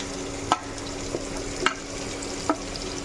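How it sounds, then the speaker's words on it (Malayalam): Onion and green chillies sautéing in a pan for Kerala-style egg roast, a steady low sizzle with a few sharp spatula scrapes and stirs spaced through it, close and fairly quiet. "ഇത് നല്ലതുപോലെ നമുക്കിത് വഴക്കിയെടുക്കാം"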